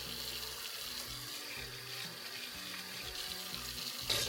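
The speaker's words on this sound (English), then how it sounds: "Now we can rinse it." Tap water runs steadily into a sink while a makeup brush is rinsed beneath it, a continuous close hiss with a brief louder splash near the end.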